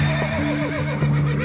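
Horse neighing as a sound effect in a narrated Spanish-language comic with shouting and gunfire around it: a loud, close whinny with a wavering pitch that fills the whole moment, with no talk over it.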